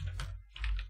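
Keystrokes on a computer keyboard during shader setup in a game-mod building tool, two short bursts of clattering taps close up with a low hum beneath, no talk.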